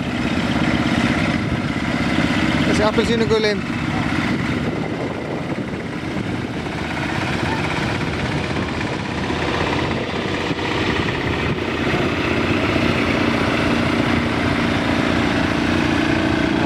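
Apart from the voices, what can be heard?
Porsche tractor engine driving in a tractor parade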